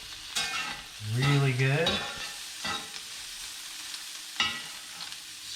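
Morel mushrooms fry in a pan with a steady crackling sizzle, broken by the scrape and clack of stirring, while a person talks briefly and a tonal voice-like sound rises early on.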